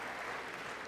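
A large audience applauds during a State of the Union address, a dense, steady wash of clapping heard faintly in a brief burst.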